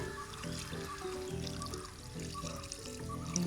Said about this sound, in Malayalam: ഇനി ഒഴിക്കുന്നത് വെള്ളം